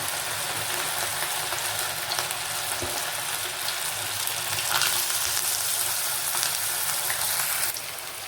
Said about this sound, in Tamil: எண்ணெயில் போட்டுட்டேங்க நான். நல்லா வேகட்டும்.